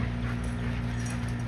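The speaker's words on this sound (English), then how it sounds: "The young dog chewing on the old dog's ears." Young dog chews on an older dog's ears, with brief close whimpering and low whining tones over steady background noise.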